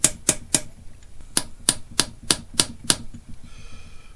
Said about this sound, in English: With each little tap it moves in just a little bit.